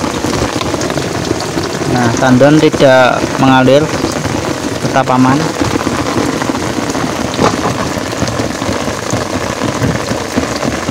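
Steady rain pours down on an open-air rooftop hydroponic setup, a dense continuous hiss throughout, while someone talks over it in the middle section.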